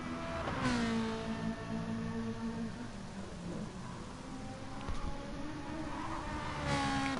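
A Ferrari race car engine in a racing video game roars steadily throughout during an endurance race, its pitch rising and falling with revs, loud and continuous with no pauses.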